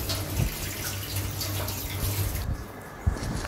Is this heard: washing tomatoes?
yes